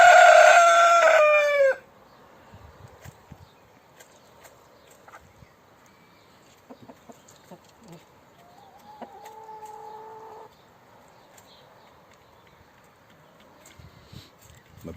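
A chicken in a henhouse with a solar-powered automatic door gives one loud, close crowing call, followed by sparse, faint clucks and small shuffling noises.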